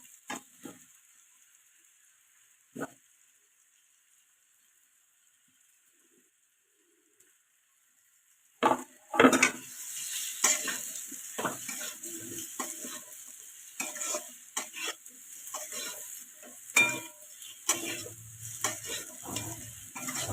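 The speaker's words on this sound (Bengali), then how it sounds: "এবার আমি দিয়ে দেবো সেই আলু, ভাজা আলুটা।" Fried potatoes being tossed into a pan with spices and sugar and stirred, starting with a few quiet knocks and then a close sizzle with irregular scraping strokes. Faint bird cooing runs underneath.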